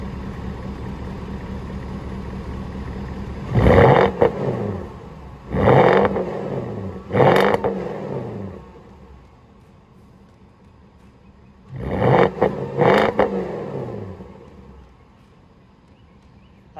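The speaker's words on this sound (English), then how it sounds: "I also did a muffler bypass. I'll pop up a little video of what that sounds like." Engine of a 2004 Porsche Cayenne S with its muffler bypassed, revved in five deep, throaty bursts that climb and fall back to a steady idle, three in quick succession and then two more after a pause.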